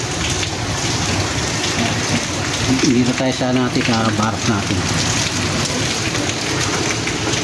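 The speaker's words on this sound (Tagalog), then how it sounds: "Maghapon pa siguro itong ulan na to." Heavy rain pours down steadily with a dense hiss, while a person speaks briefly over the downpour.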